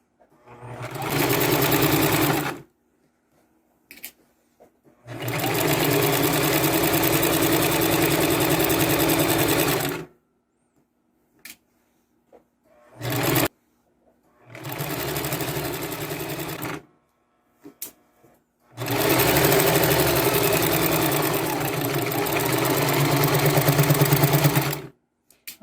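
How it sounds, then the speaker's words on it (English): A sewing machine stitches quilt-as-you-go blocks in four long, steady runs of close, loud, continuous whirring, with short quiet pauses between them. "We're going to stitch this exactly the same way we did the individual blocks. We're just going to stitch down."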